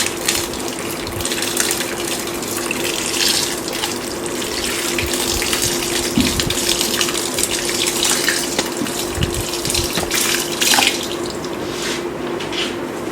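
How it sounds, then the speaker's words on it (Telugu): Water poured into the soil layer of a planted aquarium, a continuous close splashing trickle like a running tap, with a faint hum beneath and a few small knocks, no talking. "సాయిల్ లెవెల్ అంతా వాటర్ పోస్తాం."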